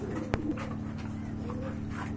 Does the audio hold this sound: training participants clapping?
no